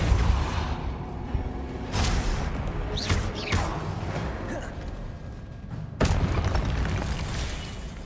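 Confringo fire spell blasts in the Hogwarts Legacy video game, a few loud booming bursts with whooshing tails spaced across the stretch, the strongest near the end, over a continuous rumbling game soundscape.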